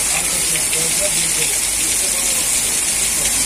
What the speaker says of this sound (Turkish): İşte görüyorsunuz yağmuru.